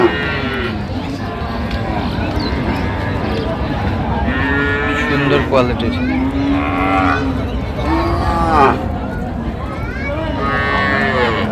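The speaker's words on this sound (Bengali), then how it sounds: "গাভী বাছুর আমরা দেখছিলাম এখানে" Cows and calves moo repeatedly at a busy village cattle market, loud calls rising over a crowd of voices and someone speaking nearby.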